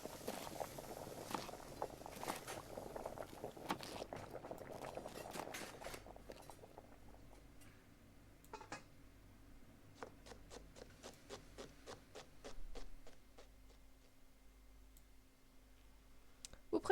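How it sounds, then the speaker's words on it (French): Kitchen sounds while preparing broth: rubbing and scraping early on, then a run of crisp rhythmic knife chops cutting vegetables on a board, fairly close and moderately quiet. "Préparez à manger avec un petit bouillon."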